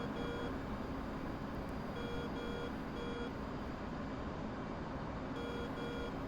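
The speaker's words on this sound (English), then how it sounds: "There's a lot of beeping sounds that go on." Cockpit warning beeps repeat in a jet in the DCS flight simulator game, steady evenly spaced tones over a constant engine roar, with no talking.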